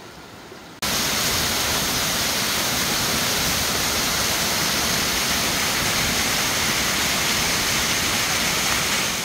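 A mountain-valley waterfall below a temple, thawed by spring, roars loudly and continuously, a dense rushing wash that starts abruptly and holds steady throughout with no voices.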